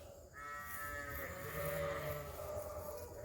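A sheep bleats once in a field where a ram runs with a group of ewes, a single drawn-out, wavering call close by.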